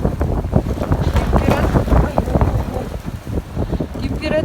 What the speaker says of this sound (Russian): очень ветер сильный